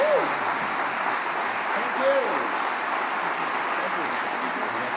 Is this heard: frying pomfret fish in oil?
no